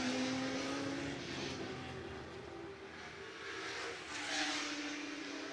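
Ford GT40 race cars lapping at the Goodwood Revival Whitsun Trophy, a steady engine roar at moderate distance with a rising and falling drone as cars pass through the chicane.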